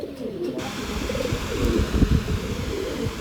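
A breeding pair of fancy pigeons coos close by in a soft, low, rolling rhythm over a steady background hum, the calls swelling slightly toward the middle, with no voices.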